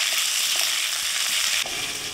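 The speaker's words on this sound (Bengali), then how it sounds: "সেদ্ধ করা কাঁকরোল দিয়ে দিচ্ছি। তেলের মধ্যে একটু কষিয়ে নিচ্ছি।" Boiled spiny gourd sautés in oil with cumin and bay leaves, a dense close sizzle with light stirring scrapes, briefly dipping near the end.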